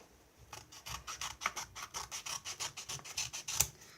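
Paper is cut to size for a homemade paper flute, giving a rhythmic series of quick rasping strokes, about two to three per second, close and fairly quiet, with no voices.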